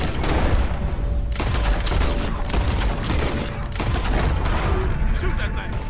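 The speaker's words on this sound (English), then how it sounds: "Shoot that thing. Yeah, I'm shooting, man." Loud gunshots in Red Dead Redemption 2 during a fight with a beast at a lake, heard as repeated close firing with booming reports over a dense action soundscape, while voices talk over it.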